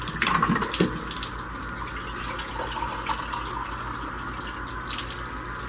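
Water runs steadily from a tap into a small cup, a continuous soft splashing stream heard close and alone, with no talking.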